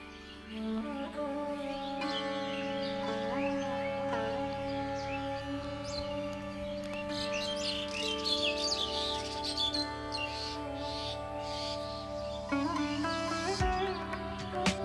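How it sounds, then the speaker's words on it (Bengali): A morning chorus of many different birds in the Dooars, northern West Bengal, with layered chirps, whistles and trills that continue steadily throughout, some near and some farther off. "সকালবেলায় এখানে কত রকম পাখির ডাক শুনুন।"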